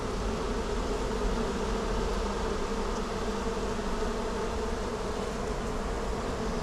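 A swarm of honey bees being moved from a bucket into a hive box, giving a dense, continuous buzzing drone that stays loud and even throughout, close by, with no voices.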